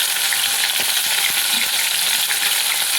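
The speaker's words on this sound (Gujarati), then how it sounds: "હવે આની અંદર આપણું લસણ નાખી દેવાનું આવે છે." Garlic sizzles and fries in hot ghee, a steady dense crackle with a few soft stirring clicks, continuous and close throughout, with no voices.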